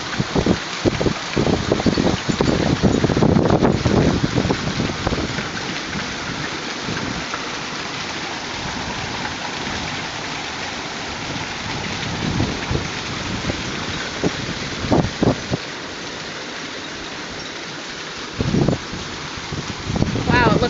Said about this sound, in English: Hail hath come to Tonopah.